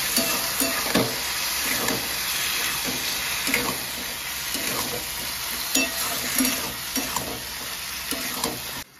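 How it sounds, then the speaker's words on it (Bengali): Kochur loti, taro stolons, stirred in a pan with salt and turmeric, with a steady close sizzle and repeated scraping strokes of a spoon throughout. "দিয়ে দিচ্ছি হলুদ গুঁড়ো, দিয়ে আরো ভালো করে নেড়ে চেড়ে নেব।"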